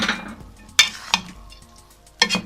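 Crispy sabooni halwa is stirred in a pot after pistachios and almonds are added, with scraping and clinking of a spoon against the pan in a few sharp strokes over a low sizzle.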